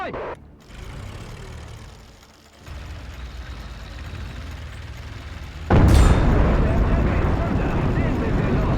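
High explosive shell in the Men of War II video game, a sudden loud boom that cuts in late and rumbles on, following quieter mechanical clatter while someone talks.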